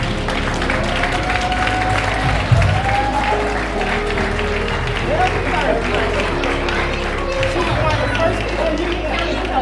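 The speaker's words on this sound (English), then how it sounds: "give a round of applause to the Angela James Recreational Foundation" An audience applauds at a community event honoring a recreational foundation, with sustained crowd clapping mixed with cheering and voices throughout.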